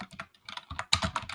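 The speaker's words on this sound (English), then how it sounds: "Damn, Dylan, you were typing up a storm" Rapid clicking keystrokes on a computer keyboard come in uneven bursts with brief pauses, close and crisp, the last flurry louder than the rest.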